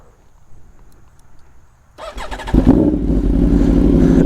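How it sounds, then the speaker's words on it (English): A 2019 Aprilia RSV4 RR with a Works exhaust fires up after quiet idle noise, cranking then barking into a loud, rough, deep idle that stays close and strong to the end. "I'll give you guys a little start up here."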